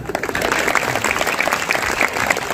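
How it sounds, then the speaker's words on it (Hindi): Audience clapping at a Hindi comic poetry gathering (kavi sammelan), a steady wash of applause from a crowd that runs through the whole moment without a break. "बीच में ताली वाली बजा दिया"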